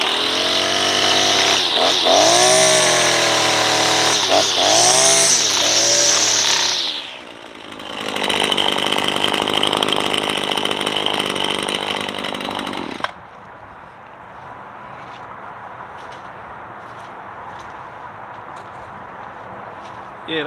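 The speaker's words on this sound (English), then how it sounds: "that's what a real man chainsaw sound like" A chainsaw roars at full throttle, dips briefly, revs hard again, then cuts out to a quiet background with faint clicks.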